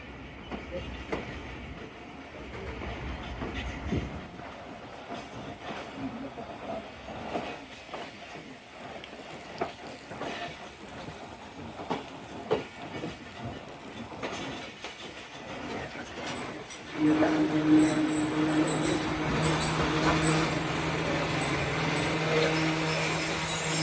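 The Bhully Shah passenger train from Pakpattan to Lahore slowing to a stop at Basirpur railway station, a steady rumble of rolling carriages that shifts to a brighter hiss and hum as it comes to a halt.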